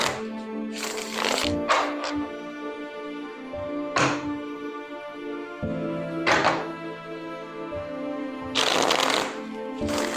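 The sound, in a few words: shuffling tarot cards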